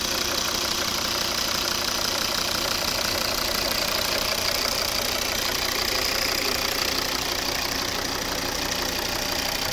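A 2012 Volvo V50 D3 2.0 diesel engine with automatic transmission idles steadily and close by, a continuous rumbling drone with a fine rattling texture throughout.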